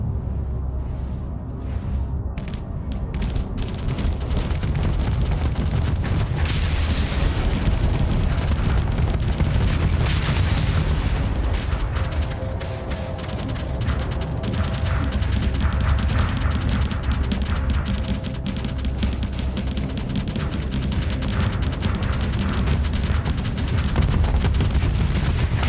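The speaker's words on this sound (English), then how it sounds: "So many missiles" Missiles explode in a space combat video game, a dense, continuous roar of booms and crashes that rises after a quieter start and stays loud throughout, with no talk.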